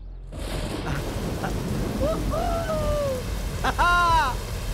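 Steady rain falls with a constant hiss, while a few faint whistling, bird-like calls rise above it partway through.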